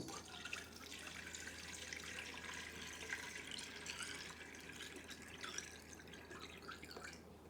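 Liquid pouring steadily into a film developing tank, a continuous splashing, trickling rush that lasts several seconds at moderate level, with no talking.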